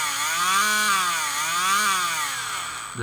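An electric motor runs steadily with a loud, continuous whine whose pitch slowly rises and falls in gentle waves, cutting off abruptly at the end.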